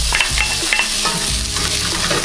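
Bacon frying with onion in hot oil in a pot, a steady close sizzle with a few clinks and scrapes of stirring.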